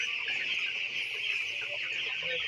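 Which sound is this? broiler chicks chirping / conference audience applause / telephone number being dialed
broiler chicks chirping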